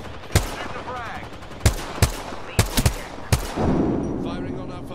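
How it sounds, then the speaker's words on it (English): Gunfire in the Apex Legends video game: sharp, loud shots in an irregular sequence, a single shot, then pairs and a quick cluster, ending in a longer rumbling burst. "Firing on our foes"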